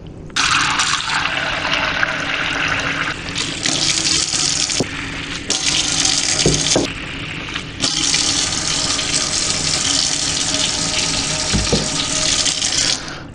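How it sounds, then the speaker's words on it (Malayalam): Tap water gushes steadily into four washed clay pots in turn, a loud continuous rush broken by brief pauses as each pot is swapped under the faucet. "ഞാൻ ചെയ്യാൻ പോകുന്നത് ഇതിൽ നാലിലും വെള്ളം പിടിക്കുക കേട്ടോ."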